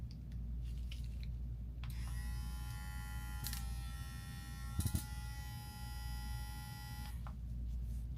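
A $30 electric hair clipper with a built-in flashlight buzzes steadily for several seconds with a high whining motor tone, switching on and off, with a couple of brief clicks in between.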